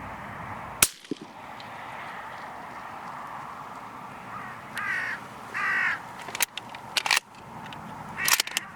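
Crows caw in harsh bursts around a decoy crow outdoors, growing more frequent toward the end over steady background noise. A single sharp crack sounds near the start.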